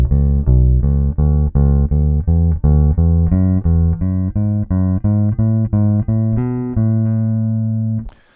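A bass guitar climbs and descends a scale sequenced in overlapping groups of three notes, steady and evenly plucked, ending on a long held low note.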